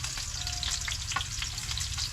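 Ginger frying in a pan for adobo, a steady close sizzle with light crackling pops throughout and occasional stirring scrapes, no voices.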